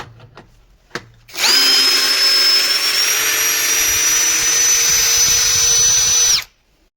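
A Procraft PA18LiN cordless drill driver on a 4 Ah battery, trying to drive an 8 by 100 screw, gives a few quiet taps, then a loud, steady high whine for about five seconds before stopping abruptly.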